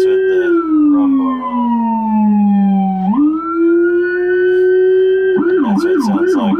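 A loud police siren sweeps slowly downward and back up, then breaks into a fast warbling yelp; a deep Rumbler low-frequency tone accompanies it.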